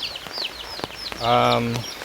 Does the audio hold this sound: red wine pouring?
no